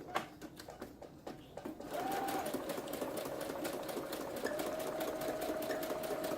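A sewing machine with plain thread and a standard needle zigzag-stitches junk journal pages, starting after a few light handling sounds and then running in a steady, close, whirring hum without speech.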